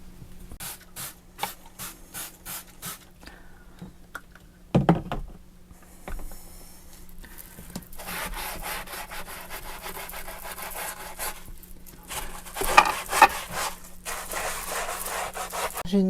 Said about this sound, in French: Je vais nettoyer tout ça.